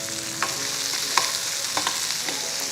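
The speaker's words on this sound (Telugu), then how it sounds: "ఉల్లిపాయ ముక్కలు వేగిపోయినాయి. దీని గుర్తు ఏంటంటే చిట శబ్దం వస్తుంది." Chopped onion pieces sizzle in a pan while being fried for peanut chutney, a loud continuous crackle broken by several sharp spatula scrapes and taps, and no one talks.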